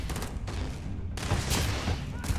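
Gunfire from the space shooter Starfield, a dense burst of shots and booms that stays loud across the whole stretch, with a brief voice mixed in.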